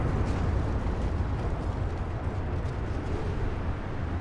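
A battleship exploding in the naval video game Ultimate Admiral Dreadnoughts: a loud, sustained roaring rumble of blast and fire that holds steady for several seconds.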